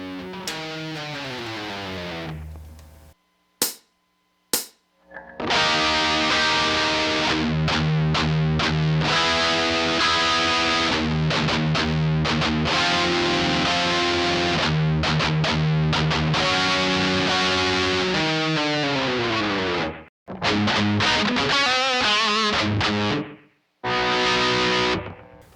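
Heavily distorted electric guitar plays a riff, loud and close, with chugging power chords, slides and short palm-muted stops broken by brief silences.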